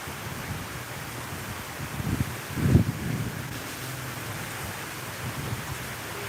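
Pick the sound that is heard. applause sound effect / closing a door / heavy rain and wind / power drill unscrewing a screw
heavy rain and wind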